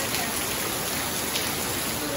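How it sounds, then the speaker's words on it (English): Light rain falls steadily during Tropical Storm Fred, a constant even hiss with no breaks, close and moderately loud. "It's raining a little bit"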